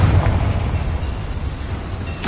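Fiery blast of the Confringo spell in Hogwarts Legacy: a loud, sustained rumbling burst with heavy low-end roar that holds steady, ending in a sharp bright crackle.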